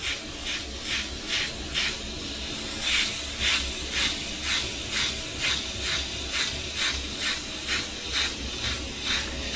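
An airbrush spraying red acrylic paint, a steady close hiss of atomised spray pulsing in regular short bursts as the trigger is worked, with no talk.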